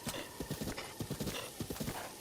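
Horse galloping in The Legend of Zelda: Breath of the Wild, a steady rapid clip-clop of hooves with snorts and a whinny, loud and continuous in the game.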